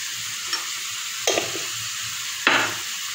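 Food seasoned with paprika and salt sizzles steadily in a pan while a spoon scrapes through it in three quick stirs, up close over the continuous frying hiss.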